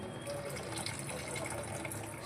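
Water is poured off cooked shevale dumplings in a continuous, faint gushing stream that runs steadily without pause and has no talking over it.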